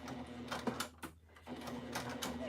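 A sewing machine runs close by, stitching a seam with its zipper foot in a steady mechanical whir, pausing briefly midway before resuming, with no voices.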